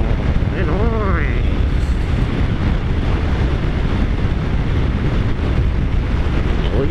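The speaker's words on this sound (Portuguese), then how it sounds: "O vento hoje não tá legal." Strong wind rushes past while riding on an open road, a loud, steady roar buffeting the microphone for the whole stretch, with a brief rising tone near the start.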